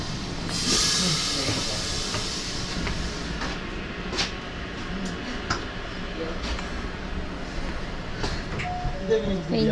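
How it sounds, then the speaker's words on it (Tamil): A train hisses and rumbles nearby with steam-like hissing and clanks, while people talk in the background, near Glacier 3000 in Switzerland. "இந்த ட்ரெயினில் தான் இப்போ நம்ம வந்தோம்."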